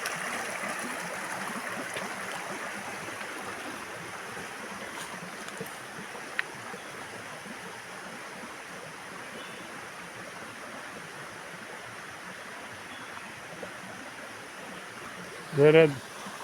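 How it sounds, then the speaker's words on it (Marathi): Steady, broad rushing of stream water flowing near a village road in the countryside, a continuous even wash with a faint brief click or two and a short loud burst near the end. "ओढ्याचं पाणी वाहत आहे."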